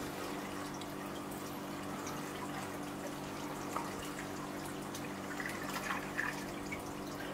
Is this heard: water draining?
yes